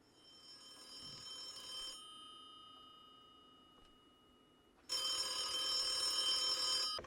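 An old-style telephone bell rings in The Occupation video game, a bright metallic trill in two bursts separated by a quieter pause, loud and close with no voices.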